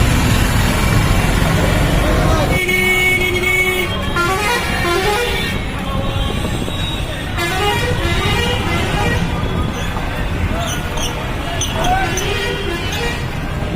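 A state bus drives through traffic in Malda Town with repeated car and bus horns honking in short toots over a loud, steady road rumble; voices talk in the background.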